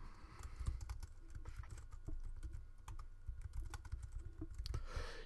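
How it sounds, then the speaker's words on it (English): Rapid typing on a computer keyboard, steady clusters of close, crisp key clicks running throughout with no talk. "if I type some more"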